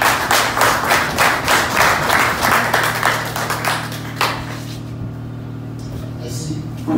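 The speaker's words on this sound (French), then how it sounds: "Sous vos applaudissements, s'il vous plaît" An audience claps for a speaker being introduced at a Grand-Anse engineers' gathering. The applause is loud and dense at first, then thins out and fades over the last couple of seconds.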